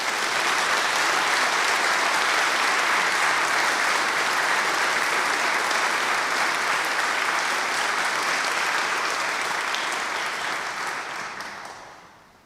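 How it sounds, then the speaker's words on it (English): Sustained, dense applause from a seated audience for graduates at a university graduation ceremony, loud and even for about ten seconds before fading out, no talking. "now you all deserve a huge round of applause"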